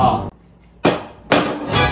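Two solid thunks of a non-metal object hitting a tabletop, spaced apart, with a short burst of noise at the start and some ringing after each impact.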